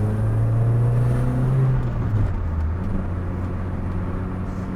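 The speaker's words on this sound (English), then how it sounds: "I just heard the supercharger spin up a little bit there." A supercharged BMW engine runs from inside the car as the supercharger spins up, a steady low drone with a brief rising whine partway through, no voices.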